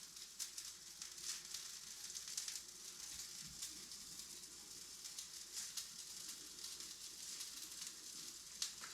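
Squirrel meat frying in a skillet alongside mushrooms, giving a steady, faint hiss of sizzling oil with small pops and crackles scattered throughout, without talk.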